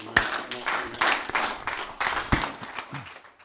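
Congregation clapping during a church service, a few uneven claps and bursts echoing in the hall, fairly close and loud, fading toward the end.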